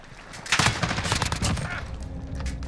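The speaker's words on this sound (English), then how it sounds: "Try some hip fire there. So you can see this thing is just shredding these guys, right?" An MK 18 CQBR rifle fires from the hip in Call of Duty Modern Warfare: a rapid, close, loud burst of automatic gunfire that trails off into lighter shots.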